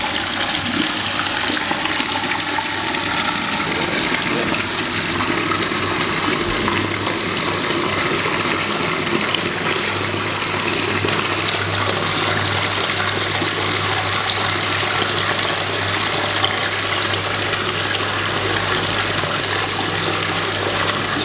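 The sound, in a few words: pond pump running, water flowing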